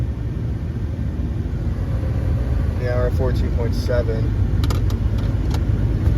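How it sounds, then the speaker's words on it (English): The MechaBlazer sits idling on a cold day, a steady low rumble close by that holds evenly throughout while someone speaks briefly over it. "I guess I'm gonna have to let the car run for a little bit"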